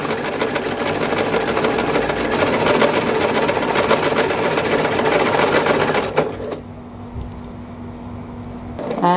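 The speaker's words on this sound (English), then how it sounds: "It's nice and relaxing actually to sit here and just let the machine do the work." A domestic sewing machine stitches a decorative pattern on fabric with a steady, fast mechanical chatter, loud and close for about six seconds before it stops and the room falls quiet.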